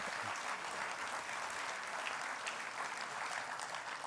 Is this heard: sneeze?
no